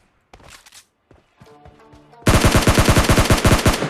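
Gunfire in PUBG Mobile Lite: a few faint clicks and game sounds, then a loud rapid burst of automatic fire rattling off about fifteen shots in quick, even succession, no talking.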